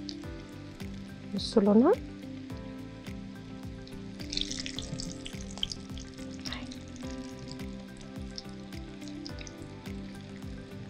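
Potato and tuna kofta frying in boiling oil and being turned over, giving a steady close sizzle with a brief louder burst early on while someone talks over it.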